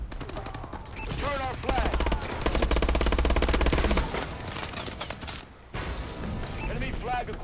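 Gunfire in a ranked capture-the-flag match of Call of Duty, with dense bursts of automatic fire that peak in the middle and a game voice announcement over the top.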